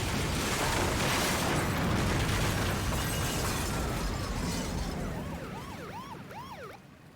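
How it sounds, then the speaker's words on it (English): A loud, broadband blast from a cutscene in the Spider-Man 2 video game roars continuously before fading, with siren-like swooping tones rising and falling near the end. "Cutscene is notable for that explosion in particular being way too loud."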